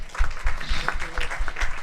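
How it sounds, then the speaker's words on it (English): Audience at a charity concert in Freetown, Sierra Leone, applauding the city's mayor, with dense clapping and crowd noise and strong low thumps pulsing at a regular beat underneath. "A round of applause for her."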